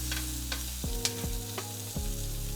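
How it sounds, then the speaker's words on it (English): Garlic toasting in a pan on a stove at medium heat while a steak cooks, with a steady sizzle and frying crackle and several soft stirring knocks, up close and without talk. "My garlic is getting nice and toasty."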